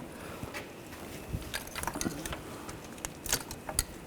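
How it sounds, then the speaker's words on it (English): A triple square socket loosening an M10 bolt on the engine knock sensor of a 2009-2017 Volkswagen Tiguan, heard as faint, irregular metallic clicks and ratcheting ticks close by. "We're gonna use a triple square socket to take this bolt out."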